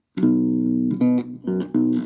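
Four plucked bass guitar notes played one after another, clear and close, each ringing briefly before the next.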